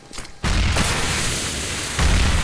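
A grenade blowing up in the video game CS:GO, a sudden loud boom that kicks in after a quiet moment, followed by a lingering rumble and a second heavy burst near the end.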